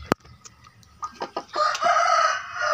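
Hens cluck in a few short, sharp bursts, then a louder, drawn-out squawking call rises and holds near the end, close by and with no talking.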